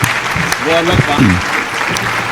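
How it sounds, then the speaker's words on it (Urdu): Clapping from the audience at a mushaira poetry gathering as a poet is welcomed: a loud, continuous wash of applause with a voice speaking briefly over it. "بھائی تالیاں ہو جائے شاہد عدلی صاحب کے لیے"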